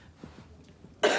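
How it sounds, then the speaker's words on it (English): A single sharp cough bursts out near the end, preceded by a quiet moment with faint breathing or throat sounds, close and loud. "Just cough for me?"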